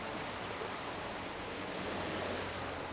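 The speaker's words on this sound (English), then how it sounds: "amidst the roiling waves of the Rotano Sea" Steady broadband wash of rolling ocean surf in the Final Fantasy XIV game world around the Rotano Sea, continuous and even with no distinct breaks, heard alone without talk.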